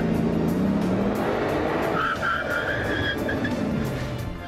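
A car slows hard from high speed, engine roar dropping in pitch while tires squeal briefly, loud and continuous throughout.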